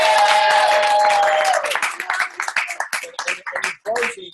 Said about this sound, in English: Could give David another round of applause.